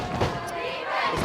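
Crowd cheering and shouting in the stands at a high school varsity football game, a brief loud burst of mixed voices heard from a distance.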